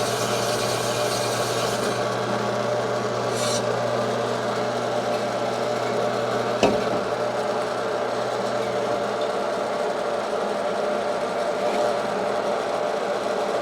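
Honing a Yamaha CT-3 engine cylinder with hone stones: a steady, even machine drone and grinding hum throughout, with a single sharp knock partway through.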